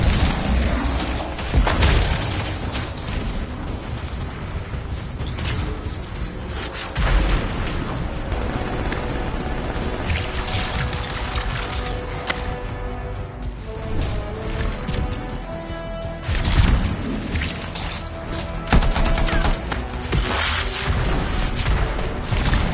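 A contained explosion of canisters rumbles through a video game scene as heavy booms and crackling blasts, loud and sustained, with a few sharper impacts rising out of the roar.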